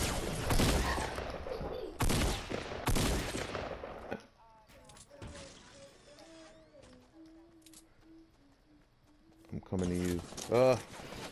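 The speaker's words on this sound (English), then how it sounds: "Shots behind." Bursts of automatic gunfire in a shooter video game, loud rapid volleys in the opening seconds, a quieter stretch with voices talking, then another sharp burst of shots near the end.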